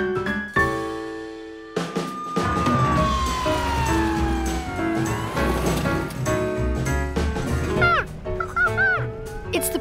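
A cartoon ambulance siren wails with rising and falling electronic tones over several seconds, mixed with other cartoon sound effects and brief music-like tones, with no talking.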